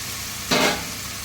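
Mushrooms hit a pan of cooked spice masala with a short, loud sizzle and stir that flares up and quickly settles back into a quieter background hiss.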